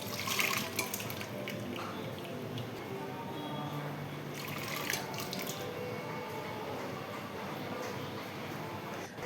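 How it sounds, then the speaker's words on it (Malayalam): Cooked lentils (parippu) are poured from a pressure cooker into another vessel, giving a faint, continuous wet pouring and dripping with soft clinks, set in a quiet room. "അപ്പം നമുക്ക് ആദ്യം പരിപ്പ് വേറൊരു പാത്രത്തിലോട്ട് ഒഴിക്കാം"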